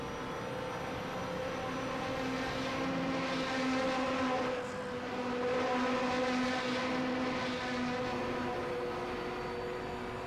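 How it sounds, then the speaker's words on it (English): Loud 1960s vintage race car engine in Assetto Corsa at Fuji, a steady droning roar with harmonic whine that swells and fades slightly as it passes, filling the scene alone without talk. "Another very loud car."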